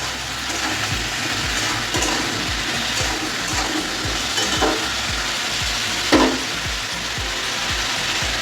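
Bitter gourd frying with salt and a little turmeric in a pan, stirred steadily: continuous close sizzle with a regular rhythm of scraping strokes, one sharper knock near the end, no voices.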